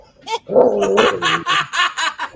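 A big dog barks and yips close by in a short burst of several quick, loud barks, with a brief whimpering tone among them.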